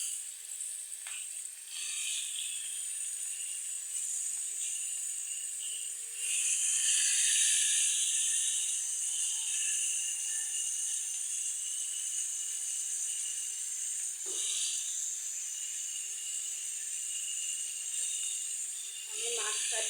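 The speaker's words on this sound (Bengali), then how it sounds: "আমি প্রথমে মাছটা ভেজে নিতেছি।" Pieces of fish sizzle in hot oil in a pan, a steady bright hiss that swells slightly midway and runs continuously, close and fairly loud, with a few faint clinks of utensils.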